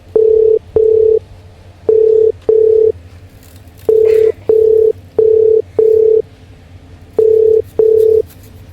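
A telephone ringback tone sounds for an outgoing call that goes unanswered: five loud double-rings in a steady repeating rhythm, each pair followed by a short silence.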